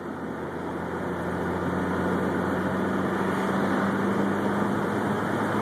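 A car drives along a dark road at night with the window rolled down, giving a steady, loud rush of engine drone and road and wind noise with a low hum throughout.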